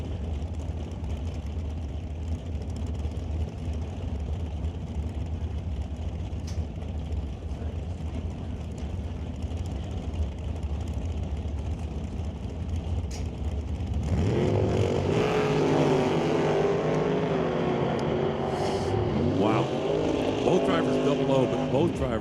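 A Camaro drag race car idles at the starting line at an NHRA Northwest National Open Series event, then rolls forward as its engine rises into a louder, rougher roar. A commentator talks over it.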